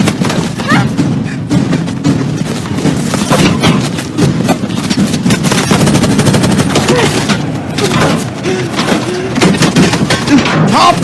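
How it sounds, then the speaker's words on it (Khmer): Rapid machine-gun fire rattles without pause through a loud action-film battle, dense bursts layered with thuds and shouted voices. "វាកំពុងតែបាញ់ពួកយើងព្រាវហើយមែនទេ"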